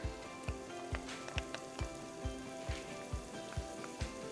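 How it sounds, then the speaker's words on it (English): Garlic and a Scotch bonnet pepper sizzle in a pan. Steady crackling frying with regular soft thumps roughly every half second, close and fairly quiet, with no talking. "Adding in my garlic now, my Scotch bonnet pepper"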